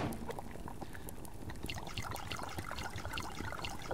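Water being collected in the survival video game Subsistence: a steady, fairly quiet pouring and trickling with faint splashes throughout.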